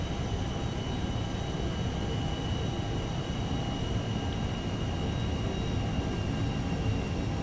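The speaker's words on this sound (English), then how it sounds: "Isn't that the best sound pack currently there is for A321?" A simulated Airbus A321 fills the scene with a steady, dense cabin and engine roar from a flight simulator sound pack, constant and unbroken, with faint tonal whines layered on top and no talking.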